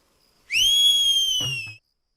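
A single loud, clear human whistle held steady for just over a second, sharp and close, ending abruptly with a brief low thump, then quiet.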